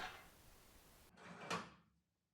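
The door of a wood-burning burzhuika stove with a cooking surface is swung shut. It gives a quiet, close shuffle followed by a single soft knock as it closes, and then silence.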